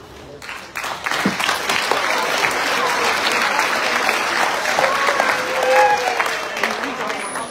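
An audience claps at an eighth-grade moving-up ceremony, a sustained wash of applause from a crowd that swells and then slowly tapers off.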